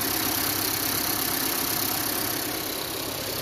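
A 2018 Honda Accord Sport engine idles after a head gasket repair, a steady, even mid-pitched hum with a faint high whine, heard close and alone.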